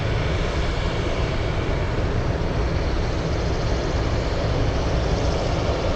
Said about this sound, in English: My goodness, I've never seen the F-22s do this.